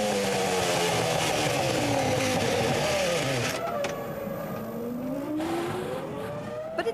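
Honda V10 engine in a 2004 BAR Formula One car, screaming at high revs before abruptly losing pitch and winding down as it fails, leaving a fading, sagging engine note and faint crackles.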